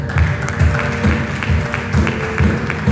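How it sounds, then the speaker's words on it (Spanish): Strong, sustained applause from a church congregation, with steady clapping and rhythmic low thumps pulsing roughly every half second, filling the room without speech. "Denle un fuerte aplauso a Dios."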